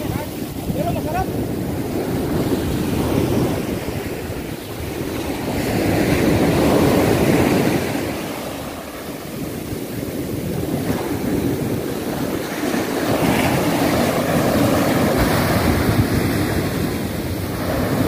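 Ocean surf at a beach at low tide, rough and choppy, with a steady loud wash of waves mixed with heavy wind buffeting the microphone throughout.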